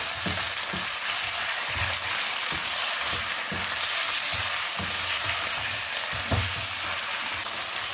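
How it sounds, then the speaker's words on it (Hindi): Chicken fries in a kadai for white chicken karahi: a loud, steady sizzle with rhythmic stirring scrapes every half second or so, close by and with no voices. "हल्का सा फ्राई करने के बाद इसमें हम डाल देंगे चिकन। अच्छे से इसे हम मिक्स करेंगे।"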